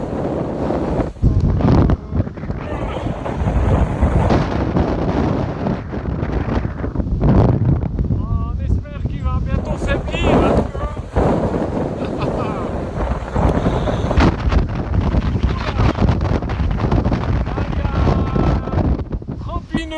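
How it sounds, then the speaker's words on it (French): Strong wind gusts roaring across the microphone aboard an anchored sailboat in the Small Cyclades of Greece, loud and buffeting throughout with water sounds and rigging noise, while people talk in French over it. "des rafales de 38 pour l'instant"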